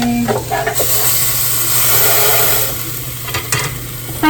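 A hamburger patty sizzles loudly in a hot pan as it is pressed down, a dense close hiss with a few scraping knocks from the spatula.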